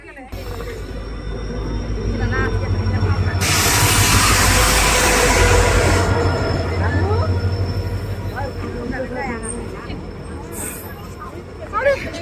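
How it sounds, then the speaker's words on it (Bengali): A train sits at a crowded station during a fair outing, a steady low rumble with a burst of hissing noise in the middle and a brief squeal near the end, under loud crowd babble and chatter. "চলো বন্ধুরা, এখন ট্রেনে উঠবো।"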